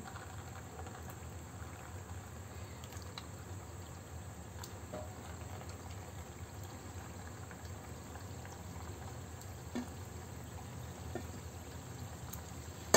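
Chicken balls deep-frying in oil over a lowered flame, giving a steady, soft bubbling sizzle that holds evenly throughout with no voices.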